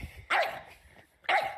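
A dog barks twice indoors, two sharp, close barks about a second apart with soft rustling between them.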